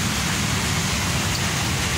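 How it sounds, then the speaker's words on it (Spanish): Cascada del Armadillo waterfall at Manga del Cura in Manabí gives a steady broadband rush of falling water, constant and fairly loud throughout with no breaks. "La Cascada del Armadillo."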